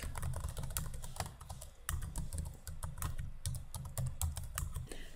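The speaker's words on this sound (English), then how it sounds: "Here I'll type in my email address." An email address is typed on a computer keyboard in quick bursts of close, crisp keystrokes with a few brief pauses, and no one speaks.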